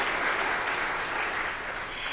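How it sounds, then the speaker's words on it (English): Audience applause after a performance at a talk event, steady dense clapping that holds evenly throughout without any voices over it. "give her a big applause"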